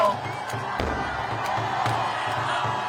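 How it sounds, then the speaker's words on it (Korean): A large crowd at a final Seoul City Hall presidential campaign rally cheers and shouts continuously, a loud dense roar with chanting voices and some clapping, sustained throughout without pause. "시민 여러분, 큰 박수와 함성으로 우리 김문수 후보를 함께 해주십시오"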